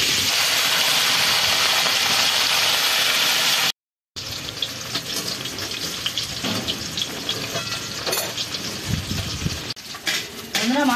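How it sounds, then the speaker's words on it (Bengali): Fish frying in hot oil in a kadai, a steady loud sizzle running throughout with a short break partway and some stirring clatter near the end. "এবার মাছগুলোকে আমি ভেজে নেব।"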